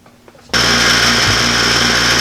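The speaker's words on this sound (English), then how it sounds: "If you have the luxury of a buffing wheel, it only takes a few seconds and you can skip the sanding part." Buffing wheel polishing the steel head of an old Hudson Bay axe, kicking in abruptly after a quiet moment and running at a loud, steady, high whine with a constant motor hum underneath.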